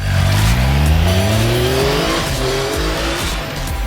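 A 2016 Triumph Tiger 800 XCX motorcycle riding on a tarmac road, its engine loud and close, revving up through rising pitch before settling, with steady wind rush and no talk.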